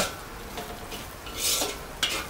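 A utensil scrapes and stirs through palabok noodles and sauce in a pan while black pepper is mixed in, giving soft brushing swishes and a light clink, close and fairly quiet.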